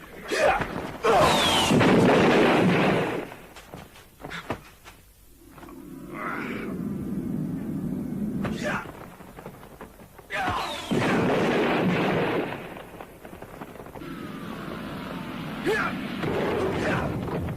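Several loud, heavy booming blasts with crashing rumble, separated by quieter stretches of low rumbling and whooshing effects.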